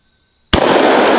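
A double-barrel 1911 pistol fires one loud, sharp shot after a moment of silence, followed by a long ringing echo across open ground.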